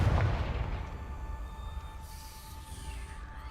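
A single Confringo fire-spell blast in Hogwarts Legacy hits with a loud booming onset at the start and then fades into a low rumbling tail.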